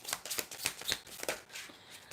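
A deck of cards being shuffled close up, quick repeated riffling flutters in a rapid rhythm over about two seconds, fairly quiet with no talk.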